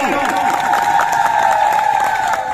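A crowd at a tribal community assembly claps and cheers in welcome, a dense, continuous burst of applause mixed with voices and shouts.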